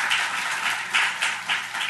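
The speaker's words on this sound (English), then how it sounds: "So let's give him a round of applause." An audience at a law school event claps together in a steady, dense wash of applause that swells and pulses across the whole clip, with no voices over it.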